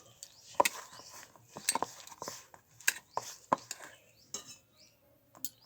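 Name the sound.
beating gram flour (besan) batter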